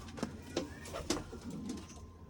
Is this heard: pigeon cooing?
yes